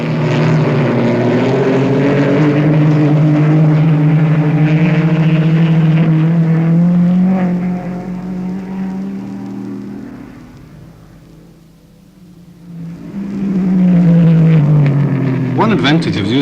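Race cars passing at a car rally or race meeting, loud engine drones rising and falling in pitch as they go by, fading briefly before another close, roaring pass.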